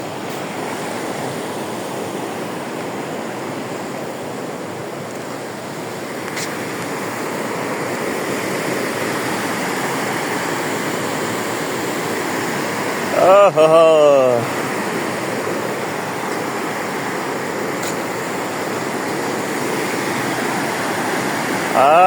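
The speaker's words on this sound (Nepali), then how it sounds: "रातिको पानीले चिसाङ खोलामा हल्का हल्का पानी बढेको रहेछ" The Chisang river rushes and roars steadily after a night of rain, its swollen flow forming a continuous broadband wash close by, with a brief exclamation from a person partway through.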